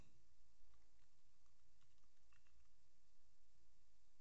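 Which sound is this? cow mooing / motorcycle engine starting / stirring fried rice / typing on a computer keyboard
typing on a computer keyboard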